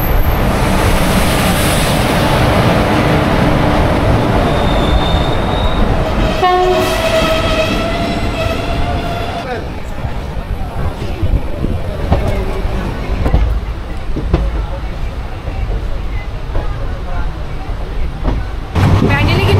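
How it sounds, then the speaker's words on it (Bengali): The Teesta Torsa Express runs along the line with a loud sustained rumble and clatter, its horn sounding in a long blast near the start, with people talking faintly in the background. "ব্যান্ডেলে কিন্তু ট্রেনটা একদম রাইট টাইমে ঢুকেছে।"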